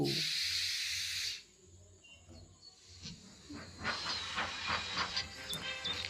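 A toy train sets off with a loud, bright steam hiss that cuts out abruptly, followed by quieter rubbing and rattling movement sounds that build again toward the end.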